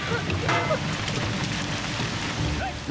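Heavy rain pours down in an outdoor action film scene, a continuous dense hiss and patter with occasional raised voices and scuffling mixed in.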